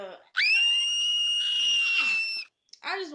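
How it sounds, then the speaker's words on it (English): A man lets out a long, loud, sustained scream lasting about two seconds, alone and close, then drops to a brief breathy sound. "I just wanted to scream"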